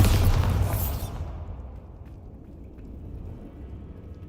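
A Bombarda blast spell goes off in a Hogwarts game, one loud booming explosion at the start that decays into a long rumbling tail fading to a low ambient hum.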